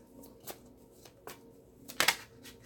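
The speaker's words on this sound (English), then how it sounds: "So let's shuffle this" Tarot deck being shuffled by hand, a few soft riffling swishes followed by a sharper, louder card riffle near the end, close up and without talk.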